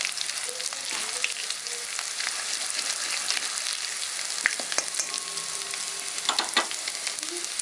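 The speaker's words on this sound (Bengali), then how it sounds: "থার্টি সেকেন্ডের মতো আমি এটাকে একটু ফ্রাই করে নেব" Ingredients fry in a pan with a steady, close, loud sizzle, broken by occasional sharper crackles and scraping stir sounds; no voices.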